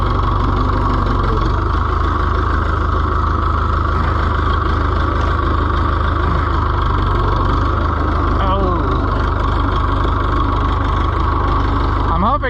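An Oliver 1365 tractor, driven for the first time in 11 years, runs with a loud, steady engine drone and knocking rumble close by, while someone talks over it.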